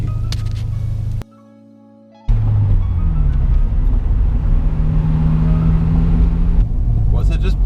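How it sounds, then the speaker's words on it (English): A Honda Integra Type R drives along, its engine a loud droning rumble that rises in pitch as it revs, broken briefly by a near-silent gap, with someone talking over parts of it. "you will hear this car. It sounds like a bloody race car."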